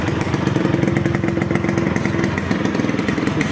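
A motorcycle engine fitted with a modified crystal tone exhaust runs close and loud, a steady rapid throbbing burble with a smooth, even idle-like rhythm and no talk.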